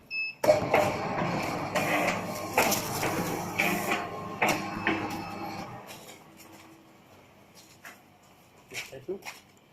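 A model 505 machine for packing ketchup and mayonnaise sachets with four-side sealing runs with rapid mechanical clacking and whirring that slows and stops, followed by a few faint clicks. Someone talks over the machine noise.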